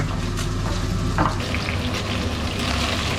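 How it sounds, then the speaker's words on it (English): Fish fries in a pan of hot oil with a steady, loud sizzle and crackle, broken by brief stirring scrapes, with no talking. "Fry the fish like this yellow color, all sides, yellow color"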